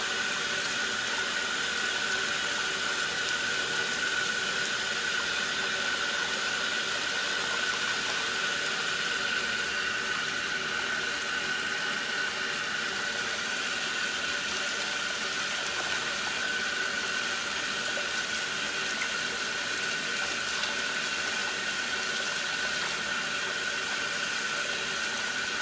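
Hot water pours steadily into a jetted bathtub, a continuous, even rush of running water with a faint mechanical hum beneath, holding constant throughout with no voices.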